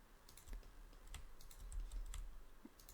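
Quiet computer keyboard taps and mouse clicks during 3D modelling work in Blender, scattered and irregular, faint and close, over a low background hum.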